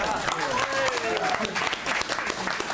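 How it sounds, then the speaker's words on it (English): A room at a citywide neighborhood committee meeting applauds an officer's first time, a steady patter of clapping with voices talking over it. "And how about a round of applause for Officer Tondros' first time?"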